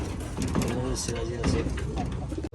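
Pomeranian pouter pigeons in an outdoor cage coo in low, rolling calls, fairly close, overlapping one another against a busy background murmur.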